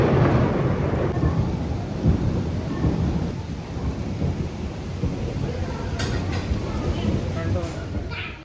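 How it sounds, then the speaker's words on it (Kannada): Deep rolling thunder rumbles steadily through heavy rain outdoors, loud and continuous, with a few brief sharper sounds near the end. "ಗುಡುಗು ನೋಡ್ರಿ ಯಾವ ರೀತಿ ಬರ್ಲಕತ್ತದ ಪೂರ"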